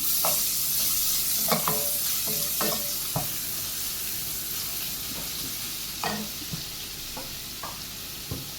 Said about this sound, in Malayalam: സവാളയെ നല്ലതുപോലെ ഒന്ന് വഴറ്റിയെടുക്കാം.